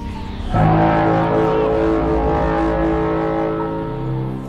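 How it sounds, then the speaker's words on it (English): A deep, blaring foghorn-like blast from an alien tripod siren in a film starts abruptly and holds a loud, droning, sustained tone, slowly fading toward the end. "that foghorn siren is bone chilling"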